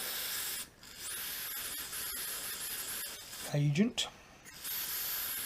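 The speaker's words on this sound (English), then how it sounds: "This is shock and unlock, which is freezing spray combined with the rust." Shock and Unlock freezing penetrating spray hisses steadily from an aerosol can, aimed at a rusted fitting. The hiss stops briefly partway through, then resumes, while someone talks over it.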